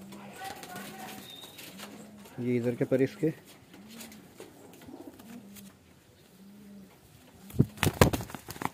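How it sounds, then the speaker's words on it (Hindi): A small fancy male gajra pigeon coos softly in a steady repeating rhythm, close by, while someone talks over it; handling noise and a brief flutter of wings come near the end. "ये देखिए, छोटे से साइज़ का कबूतर है।"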